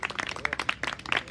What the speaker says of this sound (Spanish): Hernán, un aplauso para ellos